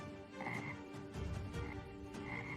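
Frogs croak in the distance, a dense chorus of repeated low throaty calls with a few higher bursts, steady and layered with no talk.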